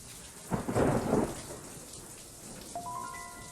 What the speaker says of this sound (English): Storm rolling in.